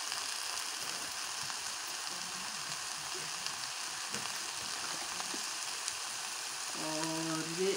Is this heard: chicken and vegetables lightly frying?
yes